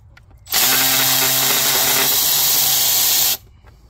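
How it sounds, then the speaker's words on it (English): A quarter-drive electric ratchet strains against a tight bolt on a 2006 Ford Ranger 4.0 engine, one loud continuous whirring, hissing burst lasting about three seconds, close up with no talk. "Quarter drive electric ratchet."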